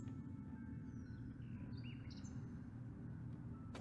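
A raven in the adventure game The Night of the Rabbit gives a few faint chirping calls over a low steady background hum.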